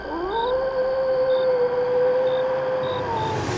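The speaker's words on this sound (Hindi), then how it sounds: "फिर सियार की आवाज सुनाई दी।" A long, wavering jackal howl rises, holds and falls away over steady background noise, with faint higher tones blinking in and out.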